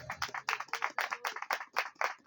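A church congregation clapping during a sermon in a rhythmic series of close, crisp claps that come in quick bursts and repeat steadily, loud and dominant with no clear talk over them.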